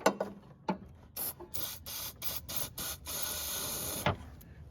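An aerosol can of white lithium grease hisses in a series of short, close bursts onto a snow blower, with small mechanical clicks and rubbing between sprays.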